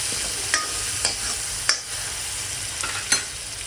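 Onion fries in a pan after cumin has browned, a loud continuous sizzle broken by several sharp scraping stirs at irregular intervals, close up with no voices.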